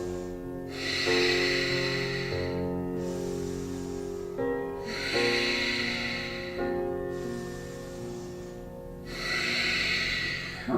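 Steady yoga breathing during a held Ashtanga pose, slow loud airy breaths through the nose in a regular rhythm, about three long exhalations with short pauses between them, heard close with no talk.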